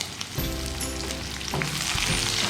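Onions dropped into hot oil with whole red chillies, sizzling and crackling loudly and steadily in a pan, close up, with no talk.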